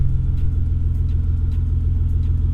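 BMW E46 engine idling steadily after a cold start, a loud, close, even low rumble with a regular pulsing throb throughout and no talk.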